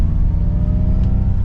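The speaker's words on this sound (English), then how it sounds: "it kind of gives you like that V8 sound" A steady, low engine-like hum with a rumbling growl, a synthetic V8 sound from a Ford Mustang Mach-E GT electric car, droning evenly without changing pitch.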